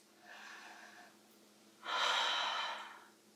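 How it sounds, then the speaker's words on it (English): Deep breathing during a beginner yoga flow: a softer inhale followed by a longer, louder, breathy exhale, close and alone. "Deep breaths."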